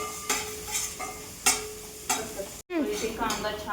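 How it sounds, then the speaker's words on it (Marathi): Onion sautés in a pan with a light sizzle, while a spoon scrapes and stirs in a regular rhythm about every half second, with one brief pause. "इथे कांदा छानपैकी परतलेला आहे"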